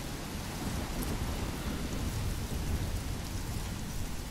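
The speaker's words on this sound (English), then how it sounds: "I've never seen a storm like this in Oregon." Heavy rain pours steadily with low rumbling thunder in a stormy scene from the video game Life Is Strange, set in Oregon; a continuous, dense wash of sound with no voices.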